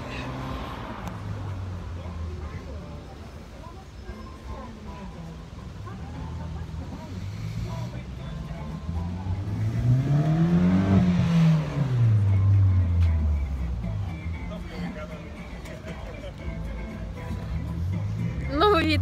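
A Cadillac Escalade drives with a low engine rumble that swells as it passes close by, then fades. People talk over it.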